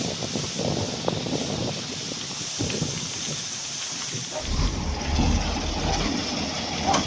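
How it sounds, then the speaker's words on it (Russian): Wind roars and buffets the microphone in strong gusts, with low rumbling bursts growing louder toward the end. "Ветер такой прям."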